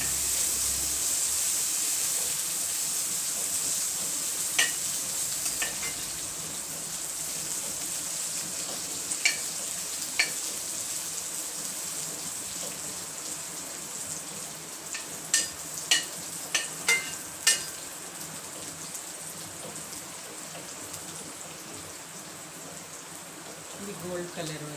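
Potatoes for aloo dum biryani fry until golden, a steady broad hiss of oil with scattered sharp pops and crackles, some clustered, close and moderate in level.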